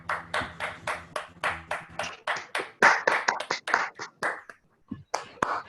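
Scattered claps from attendees of an online Toastmasters meeting, a run of separate sharp hand claps in an uneven rhythm, sounding close and moderately loud, with a brief pause near the end before the clapping resumes.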